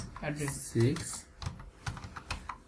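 Typing on a computer keyboard while entering network configuration commands, a few quick soft key clicks following a brief spoken phrase, close and fairly quiet.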